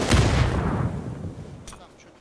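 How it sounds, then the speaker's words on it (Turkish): A bomb explosion in PUBG lands as a deep, booming blast that rolls and fades over about two seconds, with a faint sharp crack afterward. "bomba geldi şu"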